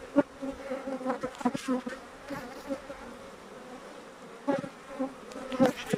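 Honey bees buzz around an opened beehive during a beekeeping inspection, a close, fluctuating drone with individual bees flying past the microphone in louder swells.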